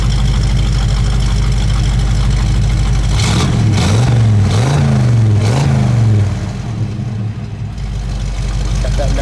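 A 1970 Camaro RS with a new dual exhaust idles with a deep, throaty rumble, then revs up sharply three times before settling back to a steady idle, close and loud.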